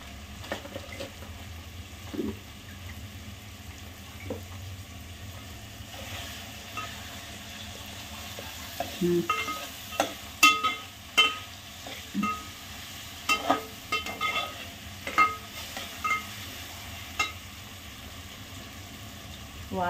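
Cumin seeds sizzle in a hot pan during veg pulao cooking, a soft steady crackle punctuated by repeated scraping clicks of stirring, close and moderately loud.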